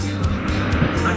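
A vehicle engine idles with a steady low rumble close by, with people talking over it on a street.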